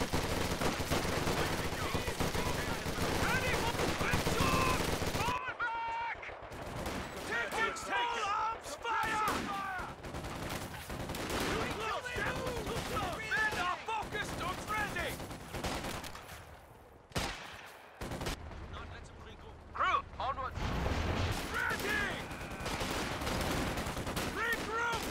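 Gunfire in Company of Heroes 2, a World War II real-time strategy game, with repeated bursts and single shots rattling through a busy battle mix under scattered unit voice lines, breaking off for brief gaps.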